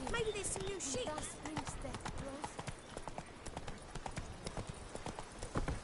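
The horse Roach from The Witcher 3 gallops with rapid, rhythmic hoofbeat clip-clops, close and prominent, while a voice speaks over the start.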